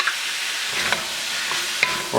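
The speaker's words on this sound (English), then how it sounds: "We're gonna saute all that. We're gonna stir fry that all together." Garlic and ginger sizzle steadily in a hot pan while being stir-fried for kung pao chicken, a close, even crackle with a few sharp utensil scrapes and taps.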